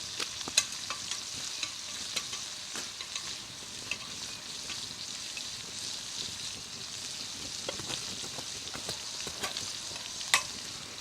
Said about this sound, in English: I'm going to put a couple coals under my fish.